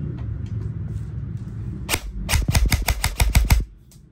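Poseidon Theseus budget rifle test firing, a rapid burst of about eight sharp close cracks in quick succession after a single opening shot, over a quiet background.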